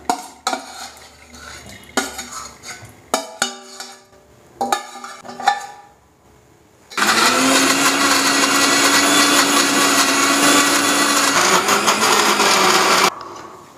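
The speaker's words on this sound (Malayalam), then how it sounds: "ഇനി നമ്മൾ മിക്സിയിലടിക്കാൻ പോവുകയാണ് കേട്ടോ." A mixer grinder runs with a dry jar of face pack ingredients, a loud steady whirring grind lasting several seconds, preceded by clattering and knocking as the jar is handled and set in place.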